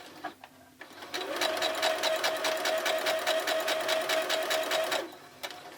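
A sewing machine stitches a pillow cover in one short, fast, evenly rhythmic burst of about four seconds, close and clear, with quiet moments before and after.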